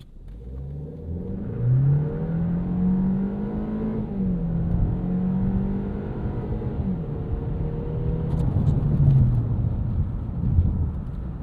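A 2013 Ford Fusion SE with the 1.6L EcoBoost engine launching from a stop, its engine note climbing steadily and shifting, a sustained moderate rumble from inside the cabin with no talk.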